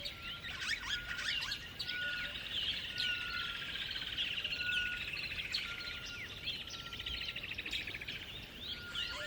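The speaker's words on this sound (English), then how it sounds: "We decided to take a nap and watch the little birds take a drink at the pool." Small birds chirp and tweet steadily around a pool at a mountainside safari lodge, a busy overlapping chorus of high calls over a soft background hiss, with no voices.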